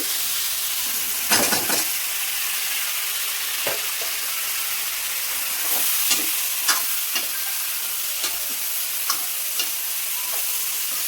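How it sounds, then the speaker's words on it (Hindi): Potatoes and cauliflower frying in a pan, a steady bright sizzle throughout with occasional scraping, clinking strokes of a spoon stirring the vegetables, close and continuous. "तो मैं फ्राई कर रही हूँ ये"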